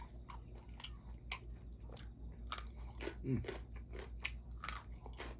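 Close, crunchy chewing and biting of food, likely spicy Lao-style raw beef with herbs, in a steady series of crisp bursts with brief low murmurs between.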